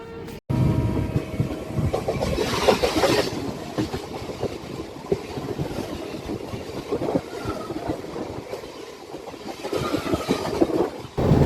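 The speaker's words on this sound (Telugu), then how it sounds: "బయలుదేరిపోతున్నాం తాంబరం రైల్వే స్టేషన్ నుంచి." An Amrit Bharat Express train pulling out of Tambaram railway station, heard from inside as a steady rumble with rattling and clattering wheel noise, loud and continuous throughout.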